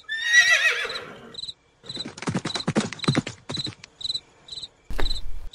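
At night a horse whinnies loudly, with steady high chirping crickets continuing throughout and a few muffled hoof or mechanical knocks following.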